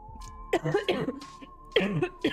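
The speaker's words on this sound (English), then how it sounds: "Why am I coughing?" One person coughs several times in close, uneven bursts against a faint steady hum, with a short pause between two clusters.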